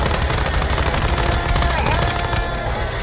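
Sustained automatic gunfire aimed at the Ravenous Hunter, the first boss in the survival shooter Once Human, a dense continuous rattle of rapid shots filling the whole moment, loud and close.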